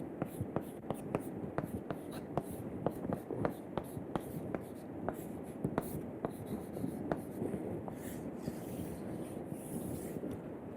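A pen or chalk writes out equations during a materials science lecture on alloy solidification, giving faint, quick taps and scratchy strokes in an irregular rhythm against quiet room noise, with no talking.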